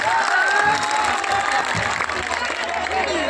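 A crowd at a public event applauds loudly and steadily for two daughters, a thick continuous clapping with some voices and whoops mixed in.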